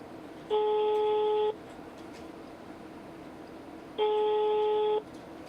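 A telephone busy signal from an unanswered call to a hotline: two identical steady beeps, each about a second long, with a pause of roughly two and a half seconds between them, over faint background hiss.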